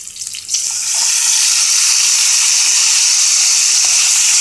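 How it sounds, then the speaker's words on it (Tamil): Tomatoes and shallots sauté in a pan for a soya chunk fry, giving a loud, steady hissing sizzle that swells after a brief softer start and holds constant to the end. "உப்பு நல்லா போட்டுட்டு வதக்கிக்கோங்க, நல்லா வதக்கிக்கோங்க"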